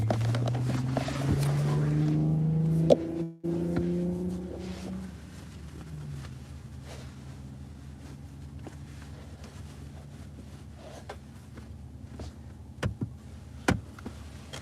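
A car with a loud muffler rumbles past on a road, its throaty engine note loud for the first few seconds before dropping away, leaving a quiet outdoor background with light wind and occasional small knocks.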